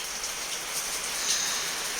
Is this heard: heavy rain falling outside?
yes